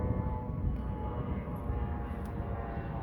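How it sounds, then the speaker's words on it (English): A steady, low roar of an airplane passing overhead, continuous and fairly even for the whole stretch, with no voices. "Boy, that's another plane."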